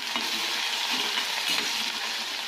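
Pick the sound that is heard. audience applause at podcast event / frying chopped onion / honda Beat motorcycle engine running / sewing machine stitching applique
frying chopped onion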